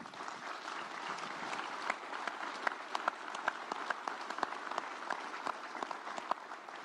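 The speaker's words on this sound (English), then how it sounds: "He's worth applauding." A crowd at a Texas sheriffs' association gathering gives even, sustained applause with many overlapping claps, heard faint and somewhat distant for the whole stretch.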